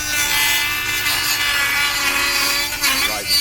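A Dremel rotary tool cuts into a Porsche 911 GT3 RS bumper in one steady, close, high-pitched grinding whine that runs without a break.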